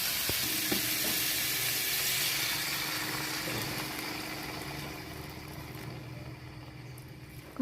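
Bagoong shrimp paste fries in a pan, giving a continuous close sizzle that slowly fades, with occasional stirring scrapes and no voices.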